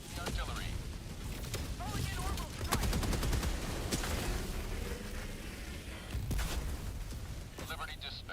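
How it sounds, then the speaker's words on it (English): Heavy artillery barrages pound in a sci-fi co-op shooter game, with deep booming blasts and rapid crackling volleys rolling continuously through a dense battle mix, plus a few sharp louder impacts; a player's voice is heard over it. "Artillery."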